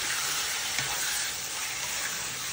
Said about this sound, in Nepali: अनि त्यही तेलमा मैले हालेँ चिकनको कलेजो र जातो। अब यसलाई मजाले भुट्छु म